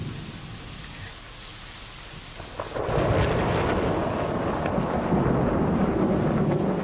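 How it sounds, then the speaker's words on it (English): Thunder during a Sri Lankan monsoon storm: quiet rain-laden air, then a deep rumbling roll breaks in and swells into a loud, sustained growl with rain noise underneath. "That's thunder."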